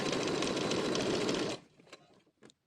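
A sewing machine stitching bias binding onto fabric whirs loudly and steadily for about a second and a half, then stops, leaving faint handling noises.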